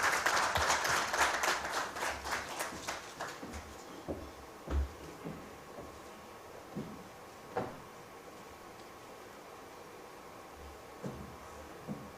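Conference audience at a green finance event in Malawi applauding, a dense burst of clapping that thins into scattered individual claps and then a few isolated knocks.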